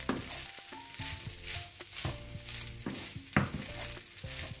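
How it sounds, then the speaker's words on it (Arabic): Rice with raisins stirred in a cooking pot, a faint scraping and shuffling that comes in repeated strokes with a soft sizzle beneath, close by and quiet, without any talking. "نحركو مزيان بحال هكا"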